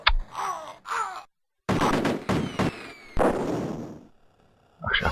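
Explosions and gunfire in the Amiga game Cannon Fodder, a burst of sharp blasts followed by a loud crackling boom that decays over about a second, then a final short burst, separated by silent gaps.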